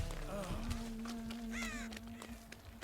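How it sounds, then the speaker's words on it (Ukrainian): Crows caw in the Dead by Daylight video game, giving several harsh calls over a steady background hum and game ambience. "Наді мною ворони кругляють."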